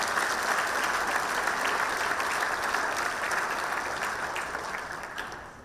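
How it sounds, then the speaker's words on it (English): A large crowd applauds steadily in a dense, even wash of clapping that slowly fades toward the end. "join me one more time in giving that team a big, big round of applause"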